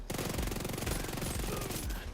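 Rapid automatic fire from the Ouroboros exotic SMG in The Division 2, a dense, continuous high-RPM burst rattling loudly throughout with no pauses.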